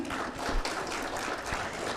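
Audience applause for award winners at an impact awards ceremony, moderately quiet continuous clapping from a crowd with a few sharper claps standing out.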